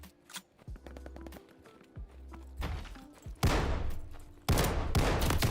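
Shotgun fire in Call of Duty: Vanguard multiplayer: soft thuds and clatter give way to three loud, heavy blasts, each a broad booming crack with a lingering tail, close and dominant.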